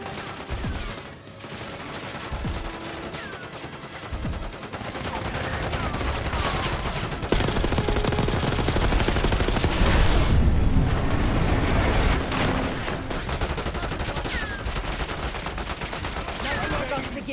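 Gunfire in the Call of Duty Black Ops 6 campaign: dense, loud bursts of automatic weapons and single shots crackle continuously, with booming impacts layered in.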